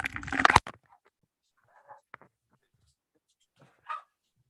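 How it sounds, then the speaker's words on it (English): Dogs barking outdoors, with a loud burst of barking at the start, then a few faint distant yelps and barks separated by near silence. "Oh, I got some dogs."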